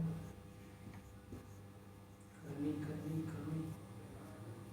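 A pen writes by hand on paper while solving a class 7 geometry construction, giving faint, close scratchy strokes in short bursts over a low room hum.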